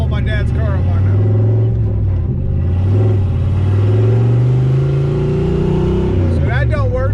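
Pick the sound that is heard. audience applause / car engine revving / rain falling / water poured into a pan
car engine revving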